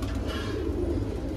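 A pure Shanpuri pigeon coos close by, a low soft murmuring call over a steady background hum.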